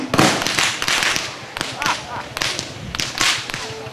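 Whip cracks from a line of whip crackers at a Hungarian harvest festival, a series of sharp loud snaps coming in quick irregular bursts, with some crowd voices underneath.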